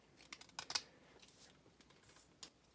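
Snips and crunchy clicks from cutting through a vine stick for a handmade wand, a quick cluster of sharp cuts near the start, then a few faint scrapes and one more cut, close and quiet.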